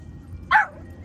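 A single short, sharp bark from a dog at an outdoor dog park in Elk Grove, California, fairly close and standing clearly above a low background rumble.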